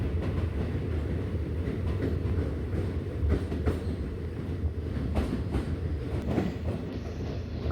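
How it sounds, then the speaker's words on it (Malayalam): Train on the Kollam–Sengottai line rolling through a tunnel toward Tamil Nadu, a steady loud enclosed rumble with faint rail clatter and occasional wheel noise, continuous with no voices. "ഇപ്പം നമ്മളൊരു ടണലിൽ കയറുകയാണ്"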